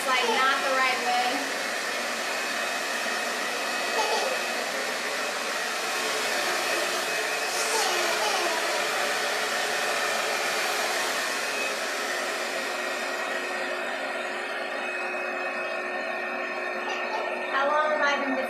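A hair dryer fitted with a diffuser roars steadily and loudly while drying curly hair. The whoosh continues for the whole stretch with little change, and a voice speaks faintly beneath it.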